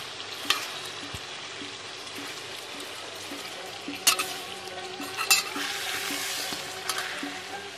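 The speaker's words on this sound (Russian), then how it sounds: "Тут жарится морковка." Carrots sizzling and frying in a pot for Uzbek dimlama cooked outdoors, a steady crackling hiss with occasional stirring clatters and scrapes, fairly close and moderately loud, no talking.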